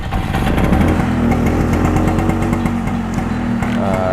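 An old Vespa Astuti scooter with its original exhaust idles loudly and close by, a steady buzzing two-stroke putter with a slightly uneven, popping rhythm.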